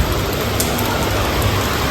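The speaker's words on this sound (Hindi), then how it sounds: "बारिश हो रही है दोस्तों।" Rain falls steadily at a cattle shed on a dairy farm, a dense even hiss that stays loud and continuous through the short stretch, with no voices.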